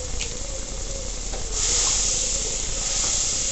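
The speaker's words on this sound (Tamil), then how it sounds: "இப்போ நம்ம புழிஞ்சு வச்சுருக்க அந்த ஜூஸையும் நம்ம இதோட சேர்த்து ஊற்றிக்கலாம்." Squeezed citron juice poured into a hot tempering in a pan, a steady broadband sizzle and hiss that swells louder partway through, close up with no talk.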